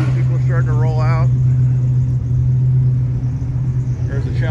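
Classic cars rolling out of a car show cruise-in at Wahoo's, a steady low engine rumble close by, with a short burst of speech near the start.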